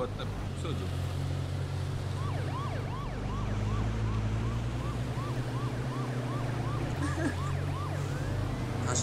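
A wailing police siren in the video game H1Z1 cycles repeatedly over a steady engine drone, with game-like mechanical hum underneath and no clear talk.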